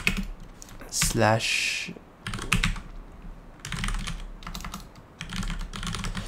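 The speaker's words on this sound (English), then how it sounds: "we're going to type here, let's just create a new file" Computer keyboard typing in bursts of quick, close key clicks while setting up an iptables firewall on a DIY home server, separated by short pauses, with someone speaking over parts of it.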